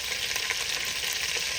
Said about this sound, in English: you'll see it kind of sizzling up there